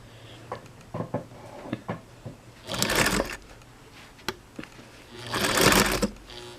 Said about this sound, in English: This is, like I said, a Chinese replacement Singer motor.